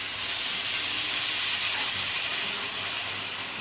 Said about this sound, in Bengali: তো এখানে এখন হচ্ছে কি স্টিমের জন্য দুধটা দিয়ে দিচ্ছি।